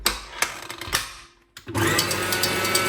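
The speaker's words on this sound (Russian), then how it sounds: "Сливки сначала взбиваем" An electric mixer whips cream in a bowl for a Milka cake filling: sharp clicks and brief whirring, a short pause, then a steady, close, loud motor whine.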